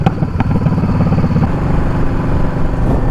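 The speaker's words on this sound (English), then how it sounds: "Ooh, that was a nice Camaro." A Chevrolet Camaro drives past with a loud, low engine rumble that holds steady through the whole moment, with no one speaking.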